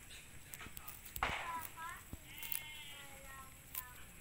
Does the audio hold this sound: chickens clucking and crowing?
no